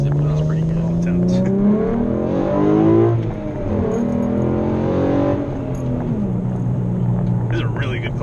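A Roush RS Mustang V6 pulls hard in first gear, its engine note rising steadily in pitch, dipping briefly at a shift point and climbing again, loud and continuous, heard from inside the car without talk.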